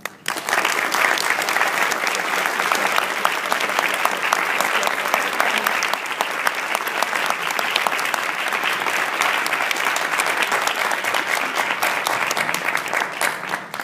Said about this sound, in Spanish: les pido que recibamos con un fortísimo aplauso, como lo merecen, Jonás y Alfonso Cuarón